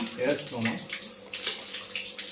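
Chicken meat being washed under a running kitchen tap, a steady splashing water flow with faint clinks and handling noises throughout, fairly quiet and close.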